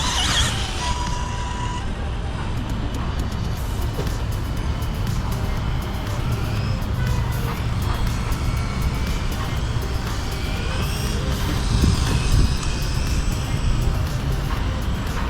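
A Losi Promoto SM radio-controlled electric motorcycle with an extended swingarm rides over wet, slippery ground, giving a continuous high whine and hiss from motor and tyres that holds steady throughout.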